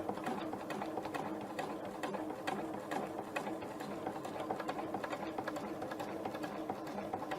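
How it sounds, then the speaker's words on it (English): A sewing machine stitches a quilt star, its needle running in a steady fast rapid patter at close range, fairly quiet and continuous without pauses. "I'm going to make sure to take an extra stitch here in the corners."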